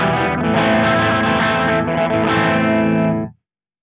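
Clean-channel electric guitar tone from a Peavey 6505 amplifier with a Boss Mega Distortion pedal in the chain, a loud sustained chord ringing for about three seconds before cutting off abruptly, no talking.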